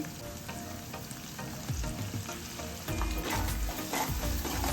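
Onion with a little turmeric sizzles steadily in a pan, with scraping stirs that grow louder and more frequent partway through, close by and with no voices.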